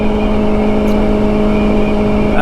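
A 2024 Kawasaki Ninja ZX4RR, a small restricted US-spec sport bike, holds a steady high-RPM engine whine, loud and close with a constant pitch and no talking.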